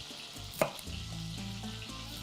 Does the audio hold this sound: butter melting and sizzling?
yes